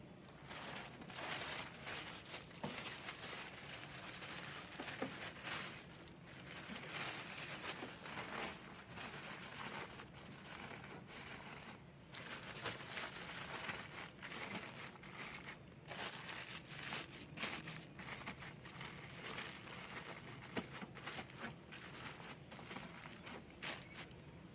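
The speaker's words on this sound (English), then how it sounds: "I'm going to wrap this plastic bag around the PCB board to protect the PCB from water." A plastic bag crinkles and rustles steadily as it is wrapped around the PCB of an outdoor air-conditioner unit before washing, with continuous close, busy crackling and handling noise throughout and no talk.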